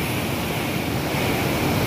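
Water rushes steadily in a mountain stream near Raniban Dham, Takbar, Darjeeling, a loud, continuous broadband roar close to the microphone with no voices.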